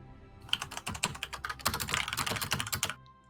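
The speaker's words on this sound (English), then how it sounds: "your keyboard is loud" Rapid, loud clatter of computer keys being typed on, dense irregular keystrokes for about two and a half seconds, close to the microphone with no voices.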